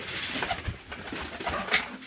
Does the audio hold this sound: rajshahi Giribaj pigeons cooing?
yes